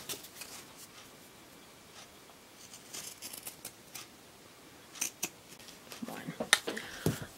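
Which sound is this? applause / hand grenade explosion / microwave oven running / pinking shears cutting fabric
pinking shears cutting fabric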